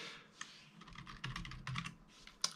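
Quick, irregular keystrokes on a computer keyboard while entering a command, with close, crisp clicks in short bursts and a few sharper taps.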